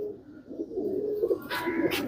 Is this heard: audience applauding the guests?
no